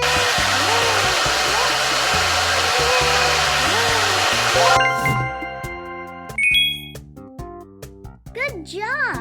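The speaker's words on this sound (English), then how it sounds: "Pick up the hair dryer." A hair dryer in a kids' learning video game blows steadily for about five seconds, then cuts off into playful chimes, dings and tinkling game sounds with bright tones.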